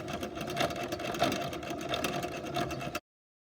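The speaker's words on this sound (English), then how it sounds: "Now all you want to do is crank the handle, and then it'll start wrapping the yarn into a yarn cake." A Loops & Threads yarn ball winder is cranked by hand, giving a steady whirring, rattling hum with a faint regular tick for about three seconds before stopping.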